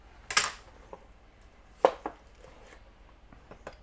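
Steak knife roughly chopping an heirloom tomato on a board: a few sharp, separate knife strikes spaced irregularly, close and fairly quiet, with no talking.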